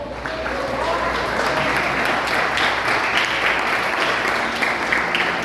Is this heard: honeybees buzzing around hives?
no